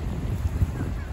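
Steady wind buffeting a microphone outdoors on Sani Beach, Halkidiki, Greece, a low continuous rumble with brief gusts and no other clear sounds.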